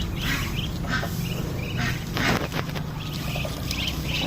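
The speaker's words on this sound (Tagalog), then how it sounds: "Ang liliit pa pero ang bilis mangitlog ng mga pato natin" Domestic ducks raised on a farm quack in soft, scattered bursts against a steady background hum, with no talking.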